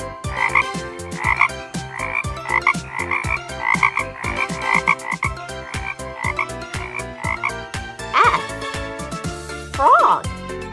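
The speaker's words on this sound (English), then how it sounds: "Frog." Frog croaks from a children's animal toy sound set come in a rhythmic run of repeated bursts, loud and close over a steady beat, with a few longer croaks near the end.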